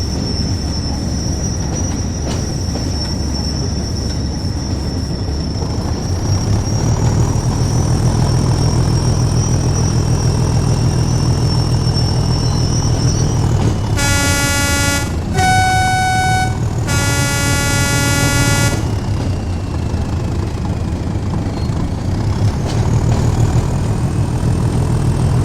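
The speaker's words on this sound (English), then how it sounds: "Now put a bit of throttle in, just so you can listen to it kind of accelerate from the exterior." A diesel train in Train Sim World on the Tees Valley Line from Darlington to Saltburn-by-the-Sea, heard from outside as its engine drone builds under throttle, with a long tonal horn blast partway through and a steady rumble continuing.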